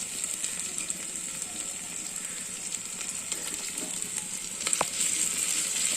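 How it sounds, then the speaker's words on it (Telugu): Onions frying in hot oil for a Telugu-style dry beef and potato curry give a steady, close sizzle throughout, with faint stirring clicks and a brief sharper crackle near the end. "బాగా ఆనియన్స్ బాగా నూనెలో ఫ్రై అయితే సూపర్గా ఉంటుంది."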